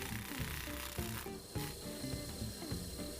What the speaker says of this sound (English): very gently touching the foam with some sandpaper and shaping things